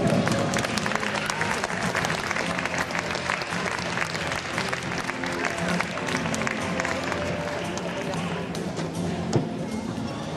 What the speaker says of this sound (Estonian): Aplausos Natalal